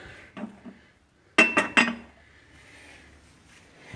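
Pots and lids from a lilac and burgundy cookware set clink together in three sharp, close metallic knocks after a couple of softer taps, with quiet room tone around them.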